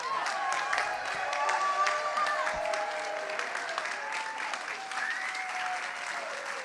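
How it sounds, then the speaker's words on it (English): Church audience applauding a choir at a Sunday service, sustained dense clapping filling the room at an even level, with a speaker's voice rising over it. "Please give a huge applause for the Global Heart Choir."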